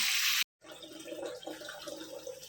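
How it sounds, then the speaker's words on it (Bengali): A loud frying hiss cuts off, then water pours from a jug into a pan of fish-head curry, a steady, moderately close gurgling trickle that continues to the end. "এখানে দিয়ে দেবো ঝোলের পানি"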